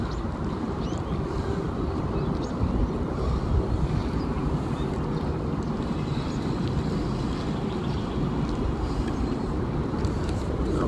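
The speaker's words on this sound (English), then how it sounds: "the wind's grabbed me again" Steady wind gusting and buffeting out on a small boat while crabbing, a constant rushing roar over the microphone with water noise underneath, no talking.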